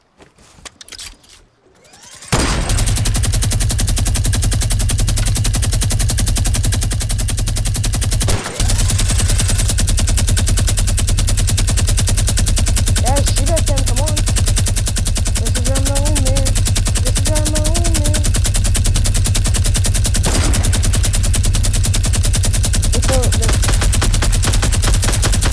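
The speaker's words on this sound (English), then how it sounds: "Guys, I have a minigun." Minigun firing in Fortnite: a continuous, loud, dense stream of rapid gunfire that runs almost without a break, with a brief cut partway through, and faint tonal game sounds mixed in.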